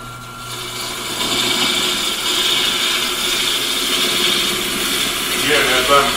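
A wood lathe spins a natural edge bowl as a chisel cuts steadily, producing a continuous whirring, scraping drone with a brief louder rasp near the end.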